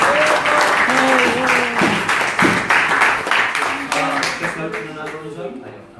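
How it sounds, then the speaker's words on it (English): Loud, dense audience applause for guests at a Sunday spiritual talk, sustained across the whole stretch with tonal voices and cheers rising through it and fading slightly toward the end. "let's give them a big round of applause"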